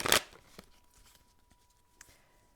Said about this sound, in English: I'm just going to shuffle a few more times for everybody watching